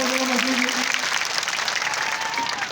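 Audience applause at a ground-breaking ceremony, a steady dense clapping crowd sustained at even loudness throughout, close and alone without talk.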